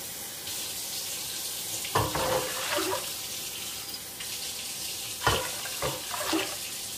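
Lukewarm water running from a tap in a steady, moderate stream with a few louder splashes and clatters as the flow is handled.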